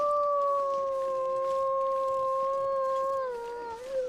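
A wolf howls in the wintry wilderness of the survival game The Long Dark, one long sustained wavering howl with a faint higher harmony, steady and fairly close before dipping and trailing off at the end.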